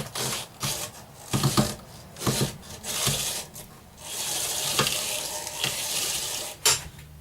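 A wood lathe spins a natural edge bowl, its blank still wearing bark, while a steady scraping rasp and hiss comes up close and loud, broken by sharp bursts and short gaps as the tool bites.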